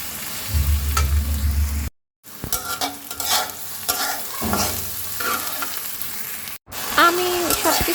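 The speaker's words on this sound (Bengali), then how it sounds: "এখানে আমি সব মশলা দিয়ে ভালো মতো পেঁয়াজগুলো কষিয়ে নিচ্ছি" Onions and spices fry in mustard oil with a loud continuous sizzle, broken by two short cuts, while a spatula stirs and scrapes through the mixture.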